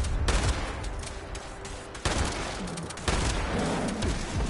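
Gunfire in the video game Fallout 76: repeated bursts of shots, loud and close, clustered at several points across the clip with no talk over them.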